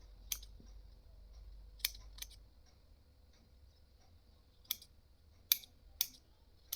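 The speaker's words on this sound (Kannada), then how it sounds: "ಎಲ್ಲ ಥ್ರೆಡ್ಸ್ನ ಒಟ್ಟಿಗೆ ಇಟ್ಕೊಂಡು 1/2 ಇಂಚ್ ಲೆಂತ್ಗೆ ಟ್ರಿಮ್ ಮಾಡ್ಕೊಳ್ಳೋಣ." Scissors trim the threads of a tassel to length in about seven sharp, crisp snips, spaced irregularly and close by, with near silence between cuts.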